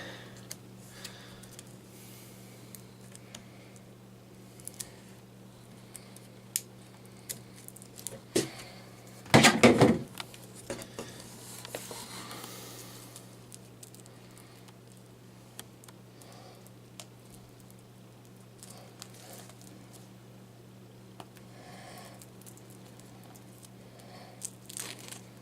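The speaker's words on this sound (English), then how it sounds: "I'm going to cut the cellophane off. I'm just going to go ahead and employ these scissors here" Scissors cutting and crinkling cellophane wrap off a book, with soft ticks and rustles throughout and a louder burst of crackling tearing near the middle over a steady electrical hum.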